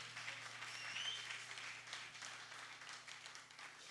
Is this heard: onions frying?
no